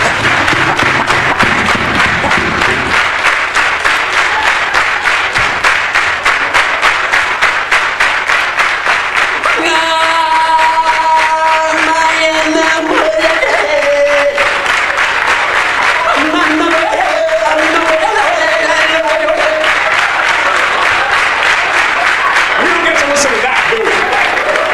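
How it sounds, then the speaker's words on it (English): A stand-up comedy audience keeps up loud, sustained applause and clapping for the whole stretch, dense and continuous, while a voice speaks over it partway through. "Come on, clap your hands"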